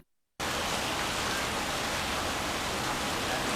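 Steady rain pours down during an outdoor live stream, starting abruptly after a short moment of near silence. It then holds as a dense, loud and unbroken hiss close to the microphone, with no voices.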